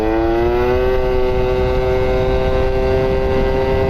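A vehicle's engine drones loud and steady on a top speed run, its pitch climbing slowly and continuously as it accelerates, with heavy road and wind rumble underneath.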